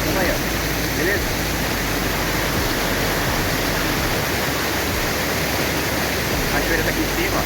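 Steady, loud rushing roar of a waterfall close by, a dense unbroken wash of falling water filling the whole clip with no pauses.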